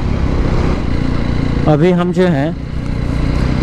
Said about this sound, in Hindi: तो अभी झारग्राम वाले रास्ते में बाइक चला रहे हैं